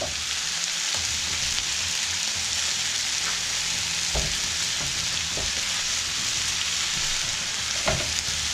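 Sliced red onion fries on a Blackstone griddle, a dense, even crackling hiss that runs the whole time, broken by occasional small pops and taps.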